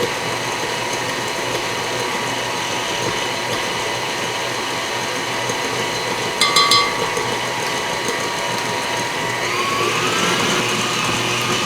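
An electric mixer stirs a chocolate kiss foam mixture with added gelatine, running as a steady, loud mechanical whir throughout with a brief rattling clink partway through.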